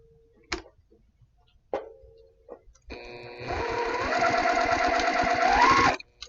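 A sewing machine stitches quilt pieces, starting after a few clicks and taps and then running in one continuous, rising burst of rapid stitching, close and clear, with no talk.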